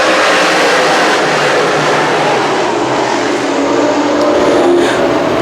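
Modified race cars racing on the Can Am Speedway track, a loud, dense, continuous engine roar from the pack that holds steady throughout.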